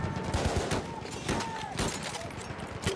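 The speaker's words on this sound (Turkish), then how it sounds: "Kendi evimdeyim, arkadan mermi yiyorum." Gunfire striking the player in the video game Battlefield 1: rapid, dense bursts of shots and impacts crackling close by, continuous for a few seconds with a voice speaking over it.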